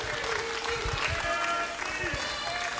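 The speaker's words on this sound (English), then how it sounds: "Nice round of applause for Bambi" Crowd at a women's wrestling event applauding, continuous dense clapping at close range for a few seconds, with voices mixed in.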